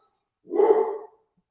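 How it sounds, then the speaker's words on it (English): A single dog bark rings out close and clear indoors, one short full woof rising out of silence and quickly fading. "Just got my dog barking."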